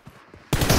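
Gunfire in the battle royale video game PUBG: after a quiet moment, a loud burst of shots erupts and keeps going as dense, rapid firing until the sound cuts off.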